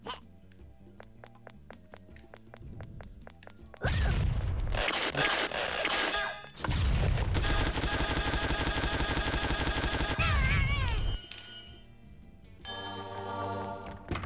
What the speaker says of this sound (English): We're gonna use the machine gun for style points.